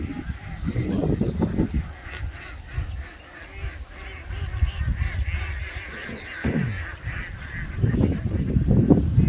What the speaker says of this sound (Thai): นี่คือเป็ดไล่ทุ่งนะครับ